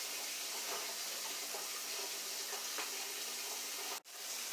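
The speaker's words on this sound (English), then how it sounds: "I'm going to put in at least half a cup of water" Water pours into a soup pot of turkey noodle soup broth, a steady soft splashing flow heard close and alone for several seconds before cutting off abruptly.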